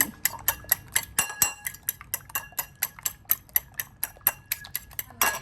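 Eggs being beaten in one direction in a bowl, a fast, even run of sharp clicking taps from the utensil hitting the bowl, close and continuous, with no talk.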